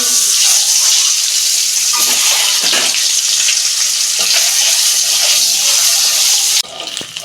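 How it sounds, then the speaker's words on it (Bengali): Eggs fry in hot oil, a loud, dense, continuous sizzle crackling close up with faint scraping, easing briefly just before the end. "তেল গরম হয়ে গেছে ডিমগুলো ভেজে"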